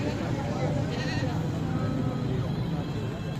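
Kajli sheep and goats bleat amid a busy livestock market, quavering cries rising over constant crowd babble and nearby talking.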